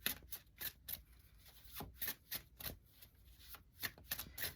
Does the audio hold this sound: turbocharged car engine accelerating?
no